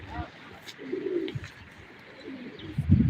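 Pigeons coo in a few low, throaty bursts at close range, with faint chirps and a voice calling briefly in the background.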